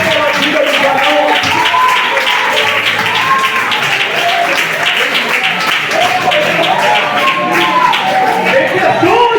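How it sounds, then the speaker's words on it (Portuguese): A church congregation applauds steadily and loudly, with voices and chatter mixed throughout the clapping crowd. "Você pode aplaudir a Deus pela vida do varão."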